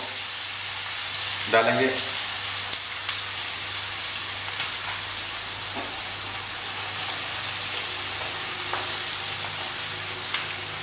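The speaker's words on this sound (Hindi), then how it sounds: "हम इसके अंदर प्याज डाल देंगे और उन्हें लाइट ब्राउन कर लेंगे" Onions sizzle and fry steadily in hot ghee in a pan, a continuous crackling hiss with a few stirring clatters, while a voice speaks briefly at times.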